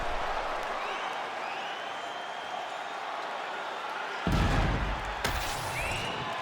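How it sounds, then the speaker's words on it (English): Arena crowd in EA Sports UFC 5 between rounds of a fight, a steady roar of cheering and applause that swells with a loud burst near the end, punctuated by a sharp slam. "This crowd is going sick after what they saw in that previous round."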